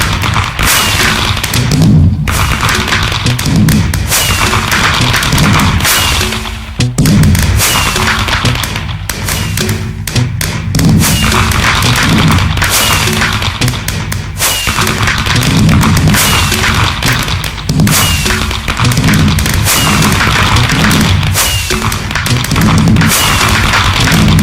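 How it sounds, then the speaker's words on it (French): New Year fireworks burst continuously around a town during the celebration, a loud, dense barrage of booms and crackling thuds with hardly a pause, near and distant explosions overlapping throughout. "ce feu d'artifice"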